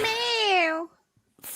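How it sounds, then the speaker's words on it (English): A house cat gives one loud, drawn-out meow close by, falling in pitch as it ends, followed by a brief pause and then a little background noise. "The cat's woken up, everybody."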